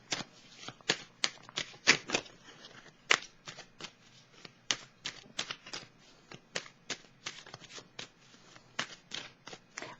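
Tarot cards are shuffled by hand in quick irregular bursts of crisp riffling and slapping snaps, close and clear with no talking.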